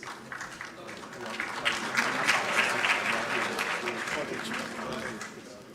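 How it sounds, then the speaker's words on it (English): Applause from the audience at the Chief Justice of Ghana's swearing-in ceremony, greeting the heads of the security services, rising after the first second and holding as a steady, moderately loud wash of hand claps. "let's give them a round of applause"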